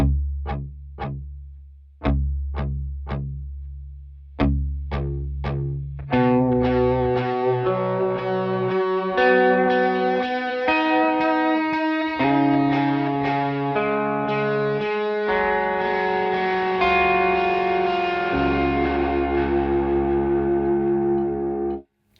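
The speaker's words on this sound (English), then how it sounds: "it's adding a really nice quality kind of distortion to the signal. It's like overdrive." A distorted electric guitar through a Strymon Volante pedal rings out, first with a few chugging plucked notes, then sustained saturated chords and melody with a gritty overdriven tone.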